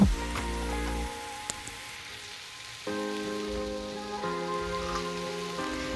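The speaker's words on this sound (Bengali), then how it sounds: "এই শাক আর আলু বেগুনটাকে পাঁচ সাত মিনিট ধরে ভালোভাবে রান্না করব" Pea greens with potato and eggplant cooking in a pan, a soft even sizzle and patter continuing throughout, with a steady tonal hum in the background and no voices.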